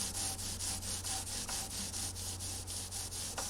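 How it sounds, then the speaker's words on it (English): A gray Scotch-Brite pad rubs across the finish of a 1956 Gibson ES-125 guitar in quick, even back-and-forth strokes, a close, hissy scrubbing with a steady rhythm. "Then I use the gray Scotch Brite pad."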